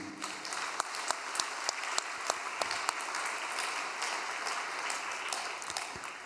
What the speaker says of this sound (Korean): 여러분 축하의 박수 올려드리겠습니다